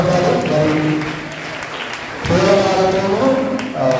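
Church congregation at a Holy Mass in Proddatur clapping loudly as a woman is called forward, a dense steady round of applause with someone speaking through it.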